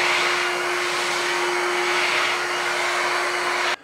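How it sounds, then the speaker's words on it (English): A Shark HydroVac MessMaster wet floor vacuum cleaner runs with a loud, steady, high motor whine and an even tonal hum, close by, then cuts off abruptly at the very end. "let's see how the Shark MessMaster HydroVac is going to do"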